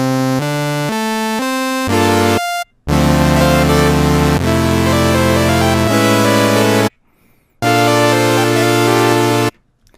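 Bright future bass synthesizer plucks made in Serum play a series of short notes, then longer sustained chords, with two brief silent gaps between phrases.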